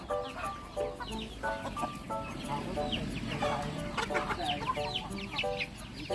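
Gamecocks and other farm chickens cluck steadily and busily at feeding time, with overlapping calls from several birds close by and a faint voice now and then.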